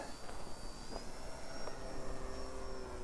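A FliteTest Storch RC model plane makes a stall takeoff outdoors. Its electric motor whines steadily at a high pitch, shifting slightly in tone, over a constant background of wind noise.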